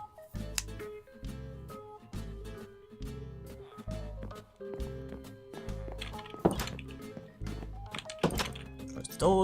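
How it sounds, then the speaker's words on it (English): Doors swing shut in a video game tavern at night with a repeated series of deep, hollow wooden thunks in an even rhythm, heavier clunks toward the end, and a voice speaking over them. "Close the doors, because we're not heathens."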